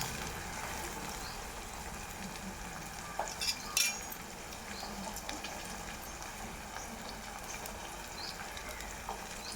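Onions frying in a pan, a steady low sizzle running throughout with a couple of brief clinks of utensils midway, no voices.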